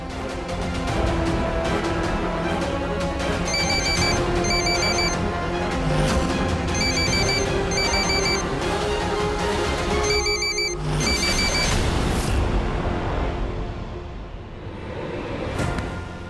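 A phone ringtone chirps in repeated short bursts of high electronic tones, a steady patterned ring over a dense background of music and noise.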